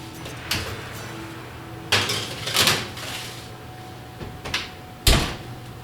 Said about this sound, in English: All right, let's put it in the oven.